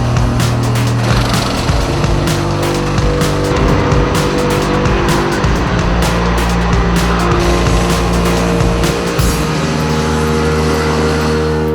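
Race cars roar past nonstop at the Daytona 24 Hours endurance race at night, loud engine drone layered with shifting revs and tire noise, continuous and close.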